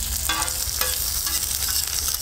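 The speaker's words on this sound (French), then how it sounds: "dans cette joyeuse friture" Sliced red onion and spring onion whites fry with a loud, constant sizzle on a hot plancha, broken by occasional stirring scrapes.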